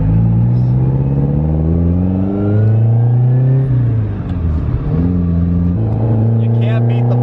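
Ferrari 308 GTB engine, a barn-find car, revving steadily and close by, with pitch rising and falling across several throttle blips and a few faint crackles, under ongoing talk.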